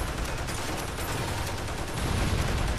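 Dense, continuous gunfire from toy soldiers in the video game Toy Soldiers: War Chest, loud overlapping rattling bursts that fill the whole stretch without a break, with no talking.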